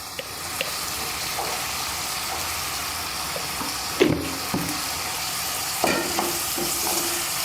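Garlic, shallots and ginger fry in a pan with a steady, close sizzle throughout, broken by a few stirring scrapes and knocks.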